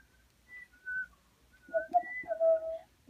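A person with braces whistles a short, wavering tune of several thin notes, somewhat breathy and uneven, close to the microphone.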